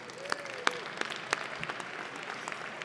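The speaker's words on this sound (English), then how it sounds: "Let's give them an applause." Scattered applause from an awards-event audience for sponsors, fairly faint and sparse with a few distinct claps standing out over a thin background.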